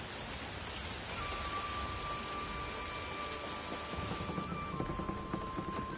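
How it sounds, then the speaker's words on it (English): Steady rain pours throughout in the Assassin's Creed Shadows game world, a dense wash of drops close by, with no talk. "Quick, get in, it's raining."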